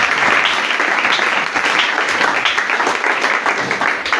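A church congregation at a Sunday worship service breaking into sustained loud applause, a dense continuous wash of clapping from a large crowd.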